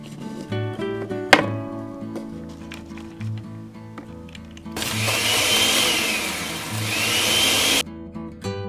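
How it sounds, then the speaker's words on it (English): A kitchen blender whirs into a loud, steady high-pitched roar partway through, holding for a few seconds before cutting off, with light music playing underneath. "I'll put it in the blender."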